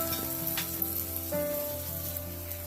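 Chopped tomato and green chilies sizzle and crackle in hot frying oil while being stirred for a Bengali dhaba-style egg tarka, a close, steady hiss with light scraping.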